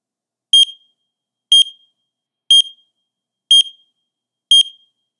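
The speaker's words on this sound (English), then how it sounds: "The pre-alarm sounds 5 times with a 1-second interval of short chirp." An NRF30 personal dosimeter sounds its pre-alarm: five short, sharp high chirps spaced evenly about one second apart, clear and alone in silence.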